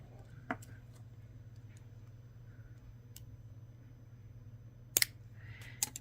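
A pair of scissors snips through a bead strand for a necklace, giving a few sharp, quiet clicks close by, with a faint hum underneath and the rest near silent.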